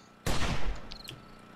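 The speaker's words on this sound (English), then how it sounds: "I hear gunshots." A single sharp gunshot bursts out in the zombie survival game 7 Days to Die, followed by a short decaying tail and a faint high chirp, with no voices.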